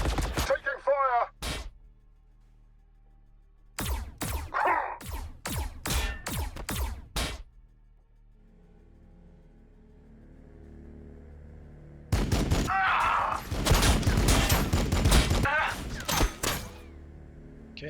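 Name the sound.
gunfire in a Warhammer 40,000 video game battle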